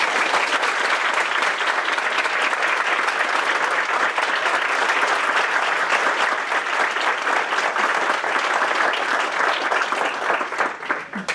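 Sustained applause from an audience after a talk, a steady wash of many hands clapping at moderate volume that continues without pause and tapers slightly at the very end.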